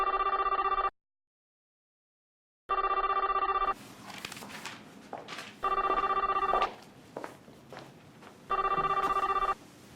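A telephone rings in three loud, evenly spaced electronic bursts separated by short pauses, with soft background shuffling between rings in an office setting.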